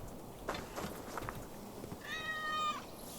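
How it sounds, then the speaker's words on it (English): A cat in the video game Assassin's Creed Valhalla lets out a single clear, drawn-out meow after a few soft scuffs of background game ambience, with no talk over it. "And look at this random cat."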